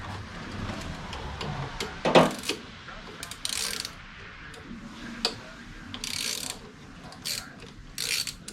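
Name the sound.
ratchet wrench with 7/16 socket on car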